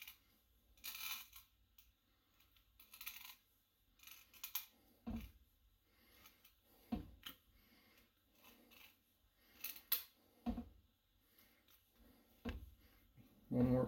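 Handheld cutting tool turned around a Neopixel lightsaber blade tube, making sharp crisp clicks and scraping snaps at irregular intervals, roughly every second or two, with quiet gaps between.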